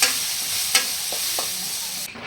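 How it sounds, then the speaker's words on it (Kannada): Chopped onions frying in a pan, a steady hiss of sizzling oil with a few soft stirring scrapes and knocks, close by and without talk. "ಉಳ್ಳಾಗಡ್ಡಿ ಹಾಕಿ ಫ್ರೈ ಮಾಡ್ಕೊಳ್ಳೋದು"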